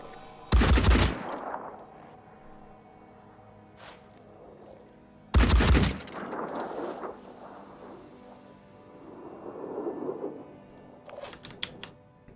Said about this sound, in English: That is some long-range return fire.